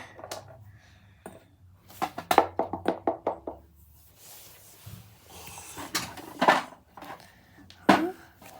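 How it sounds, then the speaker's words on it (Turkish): Knuckles knock on a door, a quick run of about half a dozen close raps followed by a few heavier, spaced knocks, with faint rustling and footsteps between them. "Kapıyı çalayım bari."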